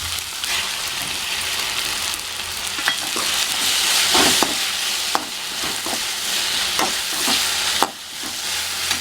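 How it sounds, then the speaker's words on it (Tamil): Chopped tomatoes go into a hot pan of onions for bread bajji masala, producing a loud dense sizzle with occasional spatula scrapes and knocks while being stirred. "நாம் கொஞ்சம் வதங்கிடுச்சுங்க. இப்போ தக்காளி போட்டுக்கலாம்."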